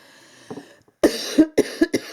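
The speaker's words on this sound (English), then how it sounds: "I'm still coughing a little bit, as you can hear." Several dry coughs in a row after a soft earlier cough, close and fairly loud, with short pauses between bursts.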